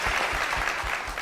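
An audience at a singing reality show claps steadily, a dense continuous wash of applause heard up close with no voices over it.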